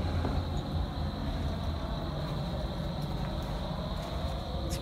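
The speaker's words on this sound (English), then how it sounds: "Sorry for the road noise" Steady road traffic noise at night beside an abandoned 1950s motor lodge, a continuous low rumble of passing vehicles with a faint high whine, constant and fairly loud throughout with no talking.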